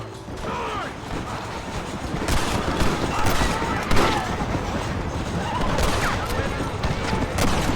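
Gunfire in Red Dead Redemption as rebels open fire, repeated rifle and pistol shots cracking near and far amid mechanical clatter, with shouting voices under the fighting.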